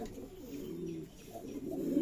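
Giribaz pigeons, many of them unpaired males, coo repeatedly at a pigeon farm in Shibganj, Chapainawabganj, giving a steady low murmuring warble with no talk.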